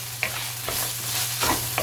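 A kofta and tripe mixture frying in a pan, with a constant sizzle under a few soft scrapes of stirring, close and without talk.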